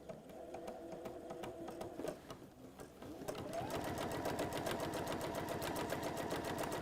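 Domestic sewing machine running a top stitch: a steady rapid needle chatter that pauses briefly, then picks up again at a faster, louder, even pace, close by.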